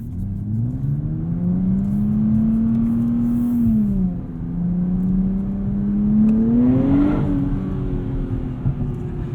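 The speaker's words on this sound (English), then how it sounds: "You can hear exhaust is a little bit louder." A 2023 Nissan Z or 2022 Subaru BRZ accelerating in automatic mode with a rising exhaust note, dropping briefly as it shifts, then climbing again into a louder rev, close and steady throughout.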